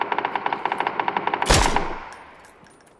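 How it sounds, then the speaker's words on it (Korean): Rapid automatic gunfire in PUBG rattles off in a steady burst of about fifteen shots, then a heavy louder blast with a rolling echo tail, coming from another direction, no talking. "딴 데서 쏘고 있어"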